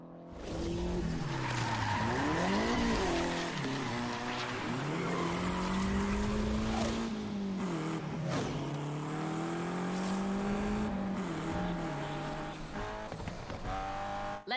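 A race car in the Need for Speed Unbound video game skids hard through a corner. A loud, continuous tire squeal runs over a revving engine whine that rises and falls for several seconds.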